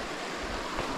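Fast-flowing river water just above a rapid section on a trout stream in Orange, NSW, a steady broadband rush and wash filling the whole second with no breaks.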